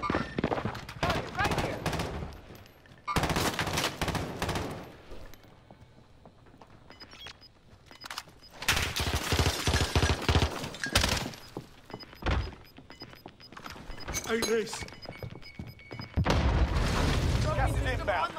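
Bursts of gunfire and impacts in the Rebirth shooter video game come in clustered volleys separated by quieter gaps, loud and close, with game announcements mixed in.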